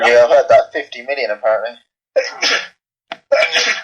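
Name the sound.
sneeze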